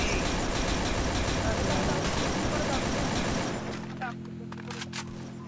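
Dense, continuous gunfire from the mobile shooter Free Fire fills the first few seconds loudly, then drops away to quieter game sounds.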